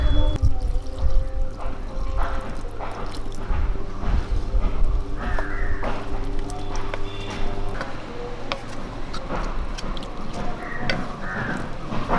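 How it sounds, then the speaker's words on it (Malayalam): Water pours steadily into a pot of soya chunks curry for several seconds, a continuous trickling splash over a low background hum. "കുറച്ച് വെള്ളം കൂടി ഒഴിച്ചു കൊടുക്കാം"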